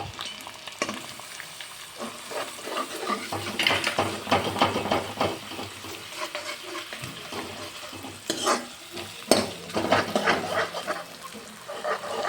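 Chopped onions frying in ginger, chilli and garlic paste in a pan for Mumbai-style pav bhaji, giving a steady close sizzle with occasional stirring scrapes and clinks, no talking.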